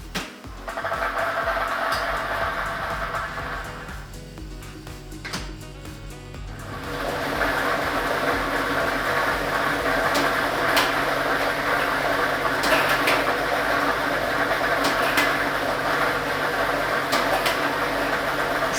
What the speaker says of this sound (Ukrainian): Тиражна комісія до початку гри довільно обрала лототрон Б комплект кульок номер 1 І ми вмикаємо лототрон.